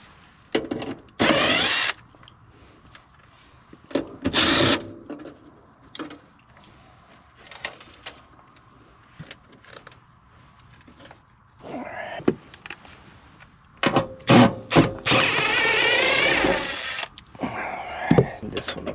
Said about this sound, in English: I'm gonna swap out a blower motor.